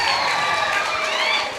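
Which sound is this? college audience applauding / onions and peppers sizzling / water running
college audience applauding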